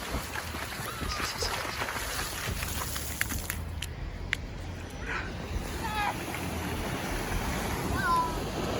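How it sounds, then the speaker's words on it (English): Ocean waves wash onto a beach on the southern coast as a steady broadband roar, with a dog barking now and then and people talking over it. "you'll be listening to the waves as white noise in the background as I talk"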